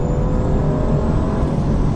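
Cabin sound of a 2015 Mercedes-Benz C-Class under full-throttle acceleration, a smooth, subdued low engine hum and road rumble, steady and quiet throughout with no voices.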